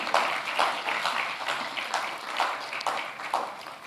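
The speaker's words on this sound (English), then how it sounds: "A round of applause for them" A live audience at the Ecobank Fintech Challenge 2024 semi-final gives a steady round of applause, a dense wash of many hands clapping at moderate loudness with no talk over it.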